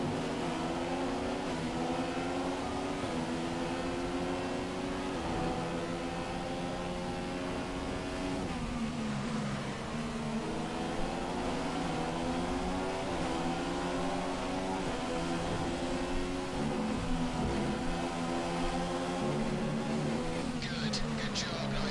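Formula 1 car in the F1 2014 video game screaming at high revs through an overtake, a loud continuous engine whine rising and falling through gear changes, with other cars audible.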